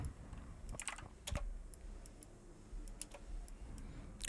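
Keyboard shortcuts tapped on a computer keyboard give scattered, quiet clicks in small bursts, close and clear over a low background hum.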